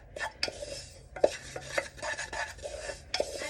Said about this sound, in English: So I'm going to keep stirring that around